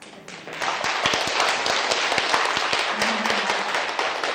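An audience after a lecture breaks into applause, a dense steady patter of many hands clapping at moderate distance, rising quickly and holding, with a few sharper individual claps standing out.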